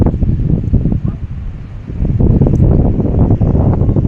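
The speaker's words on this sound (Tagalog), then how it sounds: "Lakas ang hangin." Strong wind buffets the microphone outdoors in bad weather while kites fly, a loud, continuous low roar with gusty surges and no pauses.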